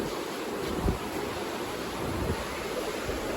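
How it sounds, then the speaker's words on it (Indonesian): A river runs near the Curug Leuwi Asih waterfall in the forested hills of Sentul, Bogor, making a steady, full rushing wash that fills the scene without pause. "Ini sungainya."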